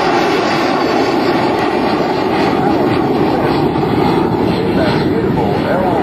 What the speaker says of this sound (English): Beautiful L-39 as she starts climbing into the sky right now.